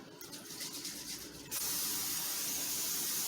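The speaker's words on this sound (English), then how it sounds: "spraying it with a little Crisco butter non-stick spray" A can of Crisco butter non-stick cooking spray sprays onto a 9x13 pan in a loud, steady hiss that starts abruptly midway and continues without a break.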